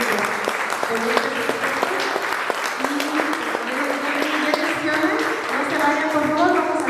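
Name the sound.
applause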